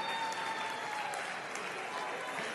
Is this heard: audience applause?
yes